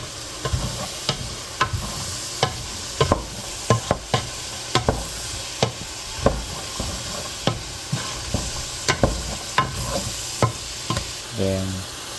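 A spoon stirs a seafood chowder base with fresh thyme and dried rosemary in a pan, giving regular scraping knocks about twice a second over a soft sizzle, close by and without speech.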